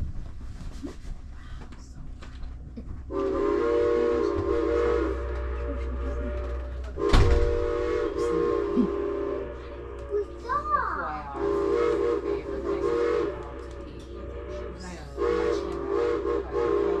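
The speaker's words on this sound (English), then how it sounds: "sometimes when we blow our whistle for Carpenter's Crossing, she'll answer us back" Steam locomotive whistle, Norfolk and Western 475 at Strasburg, Pennsylvania, sounds at Carpenter's Crossing: sustained tonal blasts, one long and several shorter, loud and near, with a voice and other talk in between.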